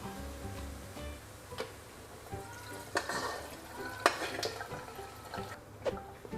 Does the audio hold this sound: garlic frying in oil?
yes